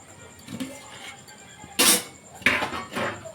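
A metal lid comes off a pot of steamed ukadiche modaks, with a couple of sharp clanks and a brief hissy rush of steam, close and fairly loud, no talk.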